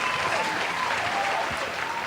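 Dense, loud applause from a crowd, played to mark a podcast's ten-year anniversary, filling the whole short stretch with steady clapping, a voice faintly audible beneath it.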